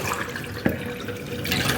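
Fresh leaves washed under running tap water in a home kitchen, a steady splashing stream with small drips and handling noises, close and continuous throughout.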